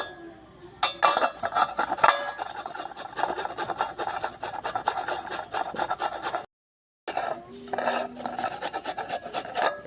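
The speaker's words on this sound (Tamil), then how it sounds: "இப்போ இதில் துருவிக்கணும்." Tender coconut palm shoot being grated, a steady close rasping scrape repeated in quick strokes, with one brief pause near the end.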